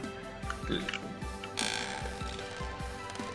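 Crossbow being reloaded in the game Vintage Story, a steady run of mechanical ratcheting clicks and gear-like ticks with a brief louder burst midway, close and continuous with a game background hum.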